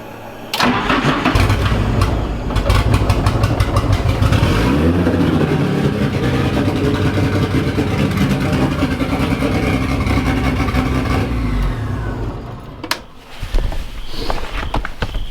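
Nissan 240sx with an SR20 engine cranks and fires up, then settles into a loud, steady idle close by before a brief dip and a few blips near the end.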